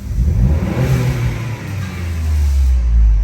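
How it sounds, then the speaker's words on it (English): A 2017 Ford Fusion Sport engine with an aftermarket blow-off valve adapter, heard as a close, loud rev that swells, dips briefly, then builds again into a strong low rumble. No one speaks. "Okay, so blow-off valve is installed, and this is how it sounds."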